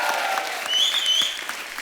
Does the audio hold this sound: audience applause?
yes